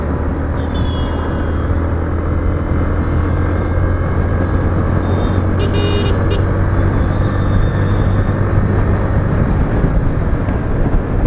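A Bajaj Platina motorcycle is ridden at speed on a highway, giving a loud, constant engine drone mixed with heavy wind roar throughout, with a few brief higher tones partway through.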